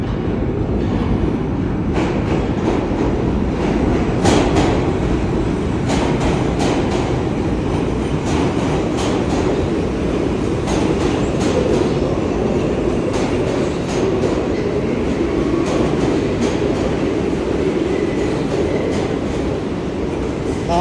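A New York City subway train rolls past with loud, steady rumbling and rhythmic clickety-clack of wheels over rail joints, sustained for the whole stretch with no clear talk.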